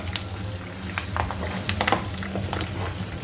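Turmeric, asafoetida and spices sizzle steadily in hot oil over a low flame for avalakki, a dense continuous crackle with occasional sharper pops and light stirring, close and alone without talk.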